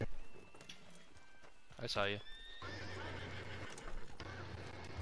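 Horse hooves and a sharp whinny from the video game Red Dead Redemption 2, clip-clopping steps around a loud mid-clip neigh, with someone talking over the game sounds.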